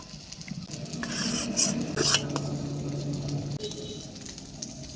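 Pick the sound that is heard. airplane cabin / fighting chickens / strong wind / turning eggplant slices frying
turning eggplant slices frying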